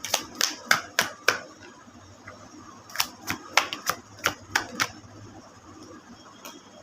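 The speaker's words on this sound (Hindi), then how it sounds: "I take a full shuffle" Tarot cards are being shuffled in crisp, snappy bursts, a quick run of about six flicks, then a pause and a second run of about eight, close and clear over a quiet room.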